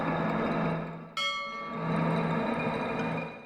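A clock bell chiming, one sharp metallic strike ringing out with a long humming decay over a steady low background drone, moderately close.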